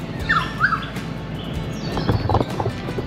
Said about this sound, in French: Réveillé par les oiseaux le matin ici.